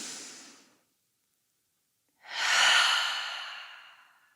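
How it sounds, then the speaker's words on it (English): A slow, deliberate exhale through the open mouth during a seated yoga breathing practice. A soft breath comes first, then after a pause a fuller, breathy release swells and fades gently over about two seconds, close and alone. "open the mouth, exhale."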